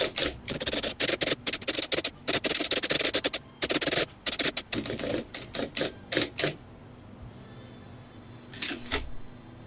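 Rapid mechanical keystrokes from an IBM Selectric Composer typewriter, clattering in bursts with short pauses, then a few final isolated strikes near the end.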